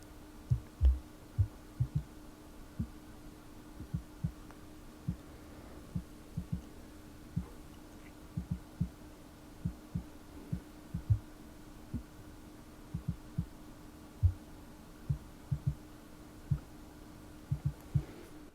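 Kick drum passed through a gate's key-listen filter, heard as a steady train of faint, muffled low thumps in an irregular beat pattern over a constant low hum.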